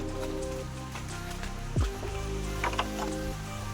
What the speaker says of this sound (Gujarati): જો વરસાદ આવી ગયો.